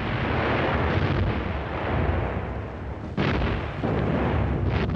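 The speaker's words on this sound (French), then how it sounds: "Les canons allemands écrasent les positions ennemies." German artillery guns in World War II desert fighting under Rommel fire and shell enemy positions, a heavy, continuous rumbling roar with a sharper blast partway through, loud and without speech.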